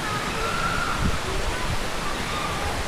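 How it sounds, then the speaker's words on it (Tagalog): Dampalit Falls in Los Baños, Laguna gives off a constant broadband hiss of falling water. It fills the scene evenly, with faint voices mixed in underneath. "Yan na po guys, ang Dampalit Falls."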